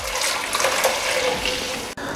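Chicken soup broth pours into a kadhai wok. A steady, splashing, hissing rush of liquid continues loud and close, with a brief break near the end and no speech.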